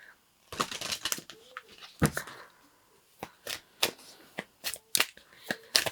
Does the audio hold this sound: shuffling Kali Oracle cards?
yes